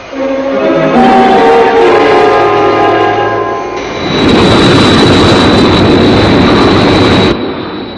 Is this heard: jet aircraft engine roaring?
yes